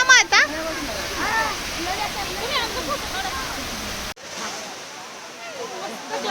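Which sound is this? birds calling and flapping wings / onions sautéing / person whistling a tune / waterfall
waterfall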